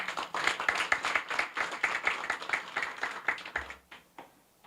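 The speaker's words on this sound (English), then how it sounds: "Let's give her another round of applause." Audience at a peace and human rights memorial lecture clapping, a modest round of fairly distinct hand claps in a loose rhythm that fades out after about four seconds.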